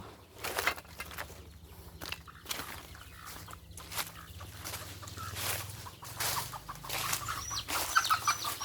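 Chickens cluck in a rural garden, giving scattered soft clucks and short calls at a moderate distance over faint background rustling and steps.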